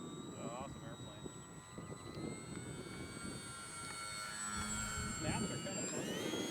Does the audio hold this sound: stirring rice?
no